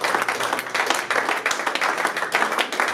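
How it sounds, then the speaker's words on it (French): A church congregation applauds loudly during a prayer service, with dense, continuous clapping from many hands that stays strong throughout and has a faint voice beneath it. "que nous acclamons encore fortement"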